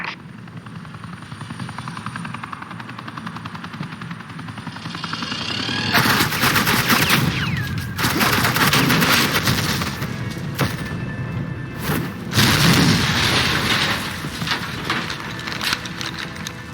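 Loud, rapid bursts of suppressing machine-gun fire in Batman: The Telltale Series rattle over a thumping helicopter drone, building into dense, close volleys with heavy booms.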